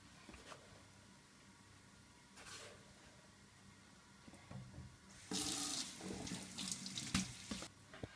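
A kitchen tap runs over a sponge to wash an omelette pan, quiet scattered splashes at first, then the water gushes louder and steadily with clattering handling sounds, close by and without speech.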